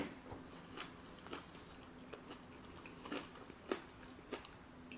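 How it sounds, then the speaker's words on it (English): Soft crunchy bites and chewing of food, apparently okra with arugula, quiet and close, with irregular small crunches repeating for several seconds and no talking. "That's a good chew."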